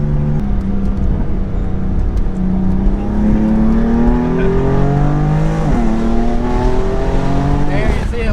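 A BMW F80 M3 with a 500 whp build revs and accelerates hard from inside the cabin, its loud engine note rising and falling through gear changes, with some talking under the exhaust roar.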